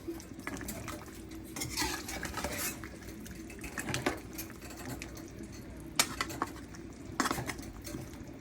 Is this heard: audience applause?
no